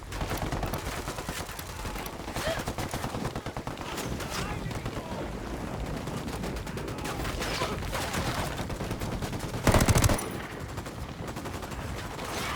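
Rapid automatic gunfire from the video game Ghost Recon Wildlands, dense sustained bursts of shots with a louder blast near the end, with speech mixed in.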